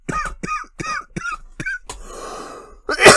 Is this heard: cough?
yes